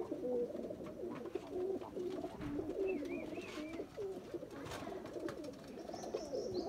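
Pigeons in a Jammu loft coo steadily and close, several low throaty calls overlapping in a continuous murmur, with a few higher chirps faintly above.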